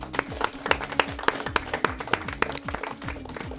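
An audience at a Kyrgyz quiz game applauds a team, a run of sharp, fairly regular hand claps up close that thin out slightly toward the end, with no talking over them.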